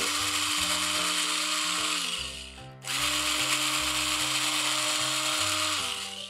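A small power drill with a 2.5mm bit whirs at high speed in steady bursts through a metal part's screw hole, briefly slowing and dipping in pitch before spinning back up.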